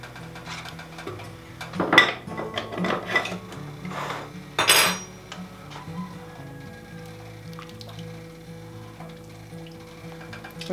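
Utensils clink and scrape against a soup pot holding carrots, a cluster of metallic knocks early on, then a quiet, even simmer for the rest, with no talking.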